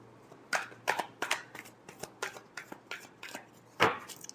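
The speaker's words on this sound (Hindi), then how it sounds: "Last shuffle." A deck of tarot cards is shuffled by hand in a string of soft, quick riffles and flicks, close and fairly quiet, with a sharper slap near the end and no voice.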